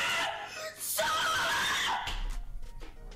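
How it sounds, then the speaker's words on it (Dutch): A child screams loudly and shrilly while playing Fortnite, a sustained strained shriek that breaks off near the end into rougher, choppier vocal noise. "Kinderen die zo hard kunnen schreeuwen, pas daarvoor op."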